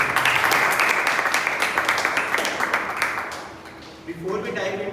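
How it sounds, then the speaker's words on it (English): A round of applause at a Toastmasters club meeting, crowd clapping steadily and fairly close, fading out as a speaker starts talking at the end. "So let's give a big round of applause."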